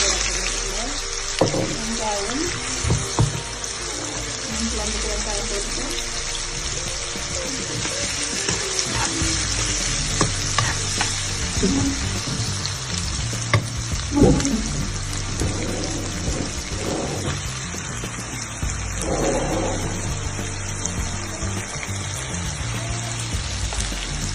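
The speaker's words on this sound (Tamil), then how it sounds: "கடுகு போட்டுட்டு உடனே வெங்காயம் போட போகிறேன்" Onions and mustard seeds frying in hot oil for a fish curry give a steady, dense crackling sizzle throughout, with someone talking over the cooking.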